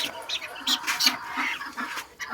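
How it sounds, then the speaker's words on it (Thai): A young chicken makes a run of quick, close, fairly loud clucks and chirps in an uneven rhythm, with short gaps between the calls. "ถ้าเริ่มโตก็จะเริ่มคึกคึกแบบนี้แหละครับตึกึกึกึกึกตามภาษาน้องไก่"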